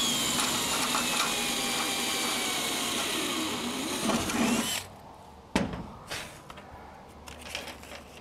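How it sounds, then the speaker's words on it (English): A power drill runs steadily for about five seconds drilling a hole for a double-stud anchor plate, then stops, followed by a few short clunks and tool handling sounds. "I'm going to come back and drill the final hole down through there"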